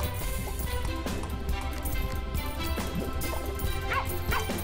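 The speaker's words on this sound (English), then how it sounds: "that's a dog, he's not an enemy." A dog barks in the video game Plantera, several short yips over loud, steady background music.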